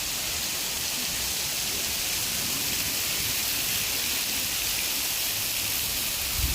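Steady rain falls continuously, a dense, even hiss with no breaks and no voices.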